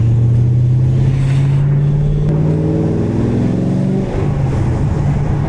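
A cammed V8 in a fifth-generation Chevrolet Camaro Z28 idles deep and loping, then revs up and settles, loud and close, with a lumpy, throaty exhaust rumble throughout.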